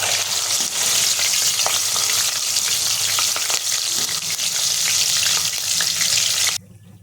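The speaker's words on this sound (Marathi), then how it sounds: "मिरच्या सुद्धा आपल्याला छान अशा खरपूस होईपर्यंत तळायच्या आहेत" Green chilies fry in hot oil until crisp while making a corn chivda, giving a dense, loud, continuous crackle and sizzle with light stirring that cuts off abruptly at the end.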